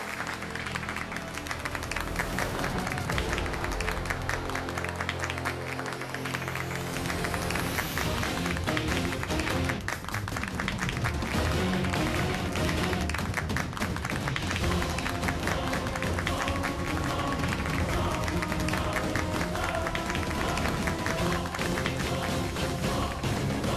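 A studio audience on the Hindi TV comedy show Harphoul Mohini applauds in a dense, sustained burst of clapping that fills the whole stretch, mixed with background music.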